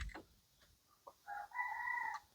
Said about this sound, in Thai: ดูแบบไก่เทวดาเพื่อนจิกเลยให้เขากินอยู่